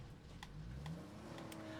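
A faint car engine in the game State of Decay 2 revs up briefly, its pitch rising and settling, quiet and distant throughout, as the car is about to explode.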